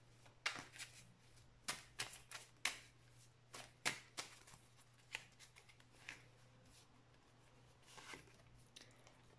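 Tarot cards are shuffled and drawn for a reading, a quiet run of crisp flicking and slapping snaps that come in irregular bursts, close by and with no talking.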